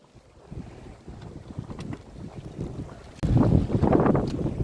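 Strong wind of about 25 knots gusts on a sailboat running under the genoa alone, with buffeting rushes and water noise that swell suddenly louder partway through and keep surging.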